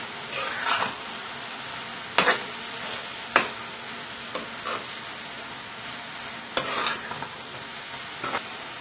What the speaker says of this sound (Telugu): ఇప్పుడు దీనిలో జీడిపప్పు ముక్కలు వేయించి వేసేద్దాం. దీన్నంతా బాగా కలుపుకుందాం.